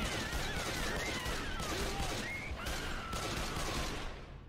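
Sustained gunfire in the zombie shooter Left 4 Dead, a dense continuous fusillade of shots filling the whole stretch at steady loudness, with brief shouts from players mixed in.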